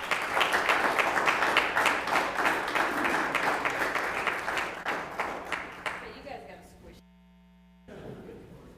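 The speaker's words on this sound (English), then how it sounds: "let's give them a round of applause" A room of people at a city meeting applauds police officers: a burst of dense clapping that gradually thins out and stops, followed by a low electrical hum and a brief silence.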